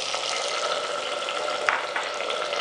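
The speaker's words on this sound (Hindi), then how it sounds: "प्याज हमने डाला ऑयल में, इसको फ्राई करते हैं।" Onions frying in hot oil, a steady close sizzle with a bright crackling hiss that holds constant throughout, broken by a brief louder pop or stir near the end.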